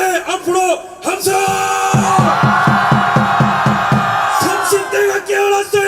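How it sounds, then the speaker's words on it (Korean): At a political rally in Dongdaegu, Daegu, a big crowd of young people in their twenties bursts into a long, loud collective shout and cheer, with shorter voices before and after and a steady rhythmic thumping beneath. "20대 앞으로 함성!"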